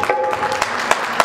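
An audience claps at a Khatu Shyam bhajan gathering at the Tosham dharamshala during the Phagun fair in Rajasthan, producing a brief, loud wash of crowd applause with faint musical tones underneath.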